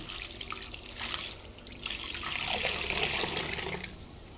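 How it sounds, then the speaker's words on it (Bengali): Water pours into a cooking pot in a splashing, trickling stream that swells midway and stays close and clear, with no talking. "দিয়ে দিব পরিমাণ মতো পানি"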